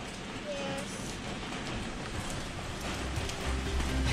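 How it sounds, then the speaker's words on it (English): Steady rain falls on a rainy day, a continuous dense hiss of drops at even loudness throughout, with no clear talk over it. "On this rainy day."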